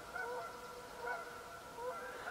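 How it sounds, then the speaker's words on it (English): Geese honking out on a northern Minnesota lake in spring, several faint, distant calls repeating in loose bursts across a quiet background. "You can hear the geese out there."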